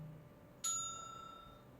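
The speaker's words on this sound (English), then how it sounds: "Please ring bell for service. Ring the bell," A single service bell in a video game rings once with a bright metallic ding that rings out and slowly decays over a quiet background hum.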